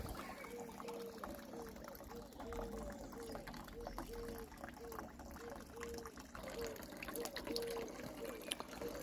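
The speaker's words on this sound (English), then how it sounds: "this is only working because we've got water running into the system" Water from a tap runs steadily into an aquaponics system, a soft, constant trickling gush with no voices over it.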